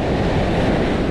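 Large sea waves give a steady, dense roar of surf and rushing water, loud and continuous without a break, with no voices.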